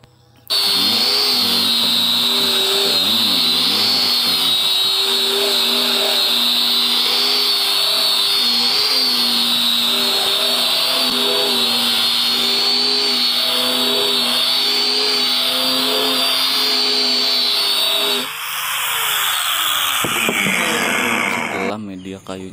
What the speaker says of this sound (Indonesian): lanjut kita ke tahap selanjutnya yaitu pengamplasan atau bagian perataan